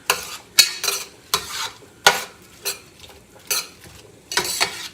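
Onions, red pepper and garlic cooking in a pan, stirred with a utensil in rhythmic scraping strokes over a soft sizzle, close and clear with no voices.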